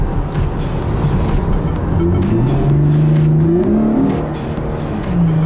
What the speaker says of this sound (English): you can pretty much hear that intake when you put your foot down